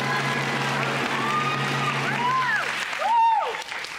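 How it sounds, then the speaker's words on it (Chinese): Studio audience applause on a Chinese music variety show, a steady crowd clapping with pitched tones and musical swoops layered over it, ending with a brief louder swell. "你们的掌声太有眼光了"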